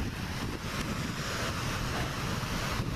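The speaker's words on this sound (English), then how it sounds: "Look at that ocean." Ocean surf at a Florida beach near a boardwalk, with waves and gusting wind blending into a continuous close roar and no talk over it.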